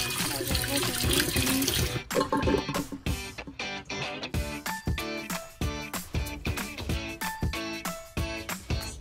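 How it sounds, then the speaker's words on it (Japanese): Tap water runs steadily while hands are washed, followed by splashy, rhythmic scrubbing and dripping sounds up close, with faint voices now and then. "指も一本一本洗うよ"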